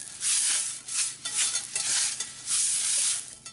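A hot Lodge carbon steel pan at a campfire is scrubbed with a wet paper towel, giving bursts of hissy, sizzling scraping strokes in an uneven rhythm, close and moderately loud.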